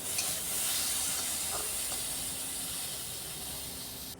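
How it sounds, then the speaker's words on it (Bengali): Potatoes fry lightly with salt in a pan, giving a faint, continuous sizzling hiss that stays steady and soft throughout, with no talking. "হালকাভাবে ভেজে নিচ্ছি আলুটা।"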